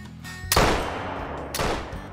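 Two loud rifle shots in the hunting game theHunter Call of the Wild, about a second apart, each a sharp crack followed by a long booming echo over a low ambient hum.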